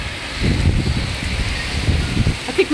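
Heavy monsoon rain pours down in North Olmsted, Ohio, a dense, steady patter and splash with gusty rumbling, close and continuous throughout.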